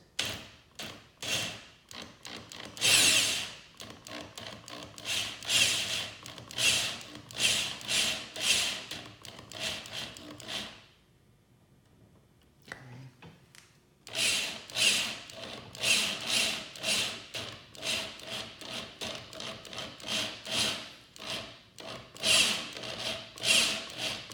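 A power drill running in reverse grinds against a stuck screw clamped down in wood, loud gritty bursts of rough boring and scraping, broken by a quiet pause of a few seconds midway before the harsh grinding resumes.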